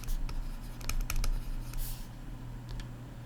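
A pen writing on paper while working a maths exam question, close scratchy strokes and quick taps in short bursts over a low steady background hum.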